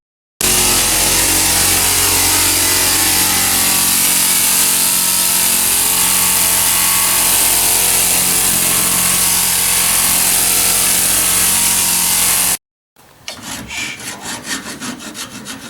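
A part on a VW Beetle is ground down with a power tool, a loud, steady, close grinding roar lasting about twelve seconds before stopping abruptly, followed by quieter rattling noise.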